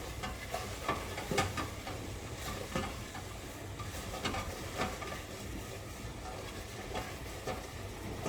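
Butter being stirred into apples in a pan while making eggy bread, a steady soft scraping and faint sizzle with brief clatters of the utensil throughout, close and moderately quiet.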